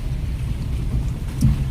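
Steady heavy night-time rain over farmland with a deep, rumbling low-end roar and a brief louder thump near the end; no voices.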